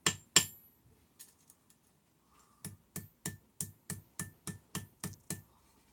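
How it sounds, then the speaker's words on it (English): A pinching hammer strikes metal on an anvil to flatten it: two sharp impacts, a few light taps, then a steady run of about ten evenly spaced ringing blows, close and clear with no talk. "With a pincing hammer on my anvil, I'm going to try or attempt to just pinch it out a bit more so it's a bit flatter."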